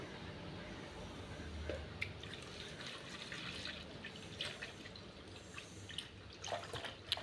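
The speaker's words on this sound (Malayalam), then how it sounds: "ഇതിലേക്ക് അര ലിറ്റർ കഞ്ഞിവെള്ളം ഒഴിക്കണം കഞ്ഞിവെള്ളവും നന്നായിട്ട് പുളിച്ചതാണ്" Half a litre of well-soured fermented rice water poured into a container of curd for a jasmine plant fertiliser, a soft, steady trickle and drip running close and quiet throughout, with no talking.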